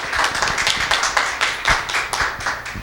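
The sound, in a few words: audience applause welcoming speaker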